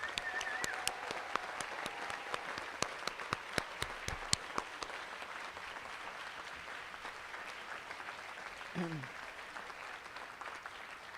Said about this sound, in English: one last round of applause for all the graduates